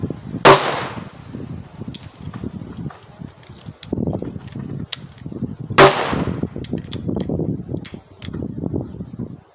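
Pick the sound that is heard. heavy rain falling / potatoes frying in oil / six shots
six shots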